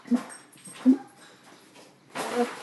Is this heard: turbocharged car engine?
no